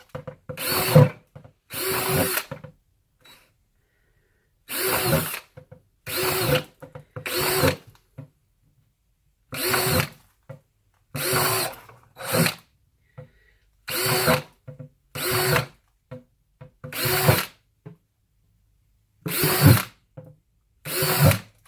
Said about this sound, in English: So I just drill everywhere there's an X.